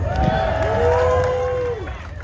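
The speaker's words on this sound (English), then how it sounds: "Another cheer for Buc-ees." A crowd at a Buc-ee's grand opening in Sevierville, Tennessee cheers with sustained voiced shouts and whoops, fairly loud and steady before easing off.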